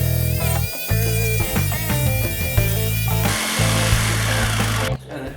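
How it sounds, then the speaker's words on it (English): A jigsaw cuts through cherry scrap wood with a loud, buzzing drone that starts, pauses and restarts in several bursts, then stops near the end. "And then I could drill a hole for my jigsaw to go through."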